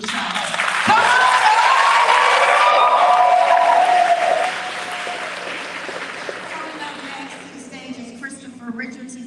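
A crowd claps at an 8th grade Class of 2021 graduation ceremony, loud sustained applause with some cheering that eases after a few seconds into softer, thinning clapping.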